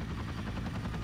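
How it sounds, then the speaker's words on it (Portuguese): Helicopter rotor noise from the 007 Everything or Nothing video game, a steady, loud, dense whirring with a rhythmic thump that fills the whole moment with no voices. "o helicóptero veio fazendo vento"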